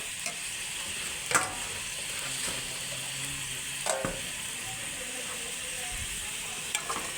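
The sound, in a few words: fried egg added to lentil dal and stirred in the pan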